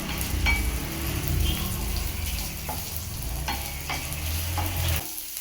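Onions sauté in a pan over a medium flame for mutton uppu kari, giving a continuous close sizzle broken by repeated scraping stirs. The sound drops away sharply just before the end.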